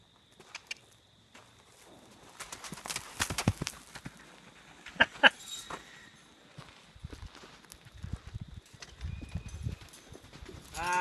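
Horse hooves clip-clop in scattered, irregular steps nearby, with a few sharper knocks mid-way and quieter shuffling toward the end; no one speaks over them.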